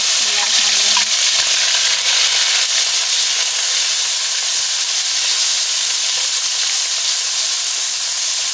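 A paste of garlic, ginger and green chili fries in a hot kadai with a loud, continuous sizzle that stays close and steady throughout, while faint stirring noises come through underneath.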